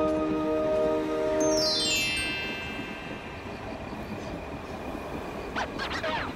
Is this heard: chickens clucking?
no